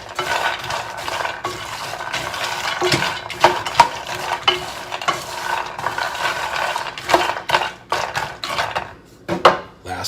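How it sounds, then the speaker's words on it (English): Nuts worked around an oiled pan with a utensil, a busy run of close scraping, clinking and rattling strokes in uneven rhythm, with no voices. "I want to be able to stir it around just a little bit, kind of coat the bottom of the center of that pan, and then work my nuts through there"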